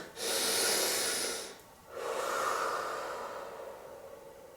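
Two slow, close breaths, each a loud airy inhale and exhale, separated by a short pause, taken as part of a calming anti-stress ritual after washing hands under running water.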